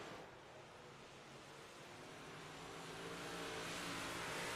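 Modified dirt track race cars in a heat race roaring past as a broad, steady engine drone that swells louder toward the end, with no talk over it.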